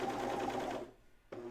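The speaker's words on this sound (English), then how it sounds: "And I'm gonna serge it on, or overlock it, however you like to call it." A serger overlocks binding onto a pajama top, a steady rapid mechanical whir for under a second, a brief pause, then the motor starts up again.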